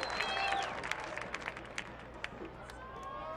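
A soccer stadium crowd during a USL match between Phoenix Rising FC and Vancouver Whitecaps FC 2 murmurs and stirs at a distance, with scattered claps, whistles and calls.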